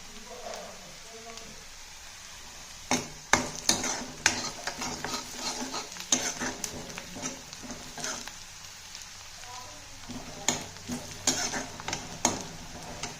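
Onions and green chillies frying in a pan, a continuous close sizzle broken by repeated clacks and scrapes of a spatula stirring, with a voice faintly present beneath.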